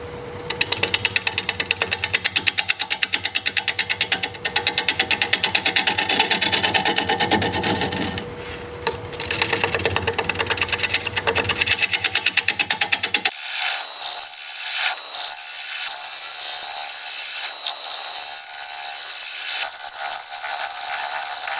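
A wood lathe turning a bowl at around 580 rpm, worked with a 5/8 inch bowl gouge: a dense, rapid clattering chatter of the tool on spinning wood, close and loud, then a shift to a thinner, higher scraping hiss.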